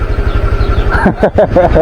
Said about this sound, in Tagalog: so pinapainit ko na yung ano, motor ko